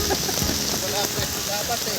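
Steady rain pours down at an outdoor fishing spot, a dense continuous hiss throughout, with people talking and laughing close by over it.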